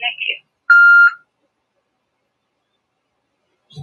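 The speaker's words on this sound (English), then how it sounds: "Please state your name after the tone" A single loud, clean electronic beep from a Google Voice phone call prompt, about half a second long, with short fragments of voice just before and after it.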